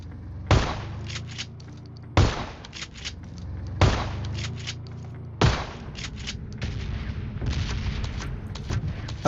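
Shotgun fire in a video game during a shotgun challenge against a tank: four heavy, booming blasts spaced evenly about a second and a half apart, followed by a denser run of shots and rumbling.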